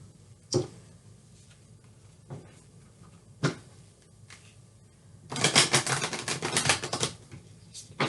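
A few sharp isolated taps, then a quick fluttering riffle of tarot cards being shuffled, close and crisp in a quiet room.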